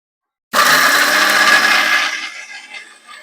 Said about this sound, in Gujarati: આ બધું સરસ એવું આપણે પીસી લેશું